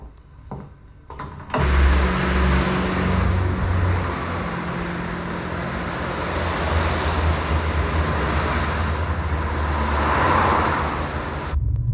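A car speeds along a road, heard from inside as a low, steady engine drone and road rumble that begins after a brief thump and holds loud and even throughout, with no talking.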